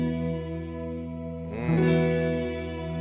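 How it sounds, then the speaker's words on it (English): Electric guitar played through a Mooer Ocean Machine reverb pedal with shimmer dialed in sustains a held chord, then a strummed swell adds bright, harmonized, wash-like trails that shimmer and decay, with no talking. "if I want to add some shimmer to that, I can use this shimmer knob and I can dial it in"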